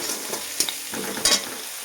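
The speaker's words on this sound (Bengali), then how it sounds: "এটা নিচে রসুন বাটা 1 চামচ, ভালোভাবে নাড়াচাড়া করে নেব" A spoonful of garlic paste is stirred into onions frying in oil, with a continuous sizzle broken by a few scraping strokes of the spoon in the pan and no voices.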